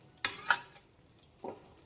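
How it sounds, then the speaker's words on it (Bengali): Mutton being sautéed in a covered pot for mutton curry with Malabar spinach: a few sharp scraping stirs of a spoon against the pot, two close together and one softer a second later, over a faint background. "আমি প্রথমে মাটনটাকে ঢাকা চাপা দিয়ে দিয়ে আগে কষিয়ে নেব"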